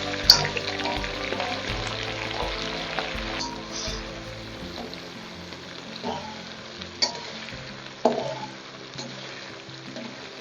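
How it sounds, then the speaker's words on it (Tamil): Crushed green chillies sautéing in hot oil for chilli chicken, a continuous close sizzle with stirring and several sharp clinks of a spoon against the pan. "ஆயில் நல்லா பச்சை மிளகால ஏறட்டும். அது வரைக்கும் கொஞ்சம் வதக்கி விடுங்க."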